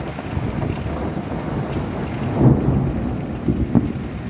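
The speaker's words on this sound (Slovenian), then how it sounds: "Grmenje in seveda dež, ki lahko pada v Ljubljani" Steady rain hiss with low rumbling thunder swelling briefly in the middle, then a softer rumble near the end; no voices.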